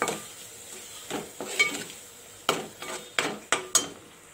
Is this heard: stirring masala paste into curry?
yes